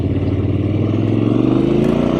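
A Triumph Scrambler XC 1200 motorcycle engine pulling hard under acceleration, a loud close throbbing drone rising steadily in pitch over two seconds, heard alone.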